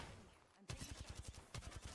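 Rapid bursts of gunfire in the video game Fallout 76, a steady fusillade of loud, close shots in quick succession after a short pause.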